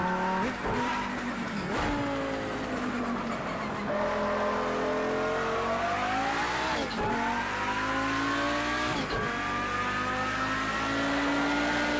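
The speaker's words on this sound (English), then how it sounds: "Love the sound of this car, especially considering it's a 5-cylinder." A five-cylinder car engine pulls steadily while driving, loud and continuous, its pitch climbing through the gears with several distinct dips at the shifts.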